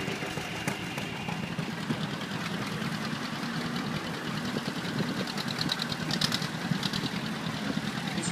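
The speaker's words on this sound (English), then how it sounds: "Amy Kramer, driving her dad's tractor" An old tractor engine idles and chugs steadily with a low, uneven knocking rumble, running close by without pause.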